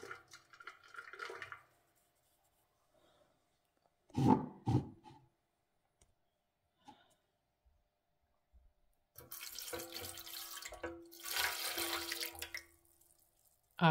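A kitchen tap runs water for bread dough made with cornmeal flour, in short separate bursts of splashing flow with quiet gaps between, close and fairly loud.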